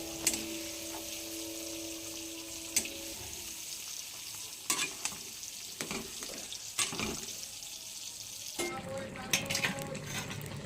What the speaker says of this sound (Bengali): এরপর শালগমের তরকারিটার মধ্যে পেঁয়াজ টমেটো ভাজাটাকে মিশিয়ে দেবো